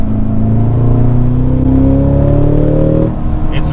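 A 2022 Cadillac CT5-V Blackwing manual super sedan's V8 engine revs and pulls, a loud steady raw drone climbing in pitch before easing off near the end.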